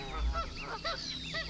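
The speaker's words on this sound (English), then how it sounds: "Goose." A goose honks repeatedly in a quick series of nasal, bugling calls, close and fairly loud over a low rumbling background, with no talking.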